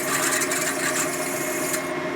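A broken exhaust stud on a Harley FXR is being machined out, a few thousandths at a time, in the aluminum head. The cutting makes a steady, close, continuous whirring rasp with no pauses.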